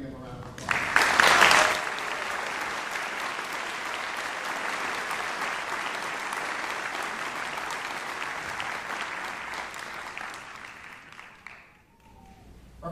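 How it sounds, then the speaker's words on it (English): Sustained audience applause at a school district music festival concert honoring students, steady and full for about eleven seconds, swelling briefly near the start before fading out toward the end. "So join me in giving them a round of applause."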